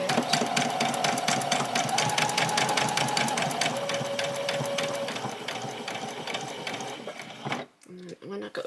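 Sewing machine back stitching a seam on a fabric bunny, a fast steady rattling needle close by that slows and stops near the end, followed by brief handling noises.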